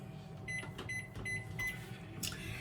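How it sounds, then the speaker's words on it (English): A microwave oven melting butter in a clear glass hums steadily with a low drone, with faint clicks and a brief higher tone partway through. No talking. "When we are melting butter in the microwave"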